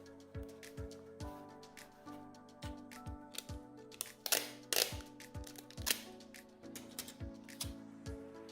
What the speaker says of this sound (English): I am just going to be taping these 2 pieces here to the box side to keep them in place